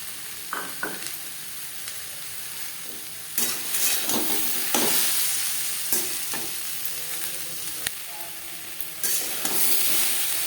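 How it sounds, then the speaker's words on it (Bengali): Whole cardamom, cinnamon and cloves fry in a pan over low to medium flame for butter chicken, making a soft sizzle with intermittent stirring scrapes and the occasional clink of utensil on pan. "লো টু মিডিয়াম ফ্লেমে মশলা বেশ ভালো করে ভেজে নেব আর লাগছে এলাচ দারচিনি লং"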